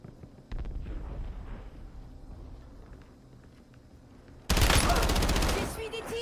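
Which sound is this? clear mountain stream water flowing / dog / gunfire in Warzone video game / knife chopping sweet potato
gunfire in Warzone video game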